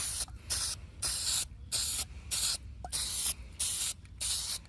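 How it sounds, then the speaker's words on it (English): Short bursts from a spray paint can as rust weathering is added to armor, about eight hissing sprays of roughly half a second each, separated by brief gaps, close and clear. "We're gonna spray it a little bit more."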